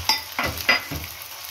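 Tomatoes hit hot oil in a pan for chicken pulao, giving about four short sizzling, stirring bursts in quick succession, close and fairly loud.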